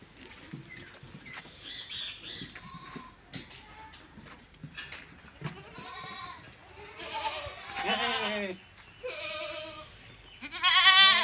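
Goats on a farm in Vehari, including a buck, give several close, wavering bleats that grow louder toward the end, over soft shuffling and farmyard noise.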